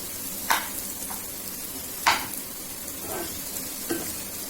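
Diced potatoes fry in a pan under a steady soft sizzle, broken by a few sharp scrapes of a spoon stirring them, close up with no talking.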